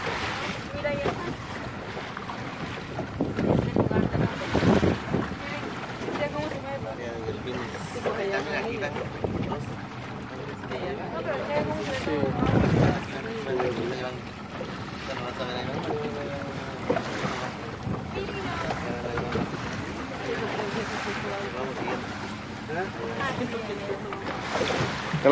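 Sea with a boat out on the water, heard as steady rushing wind buffeting the microphone with surging wave and engine noise and a few louder gusts, while people talk faintly now and then.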